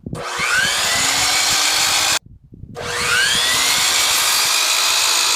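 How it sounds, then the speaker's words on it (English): A miter saw cuts crown molding in two loud, close bursts of high motor whine, each about two to three seconds long, separated by a brief pause as the blade spins down and starts up again. "I'm gonna swing my saw around, use the exact same miter and bevel, but just swing it around and cut from this angle."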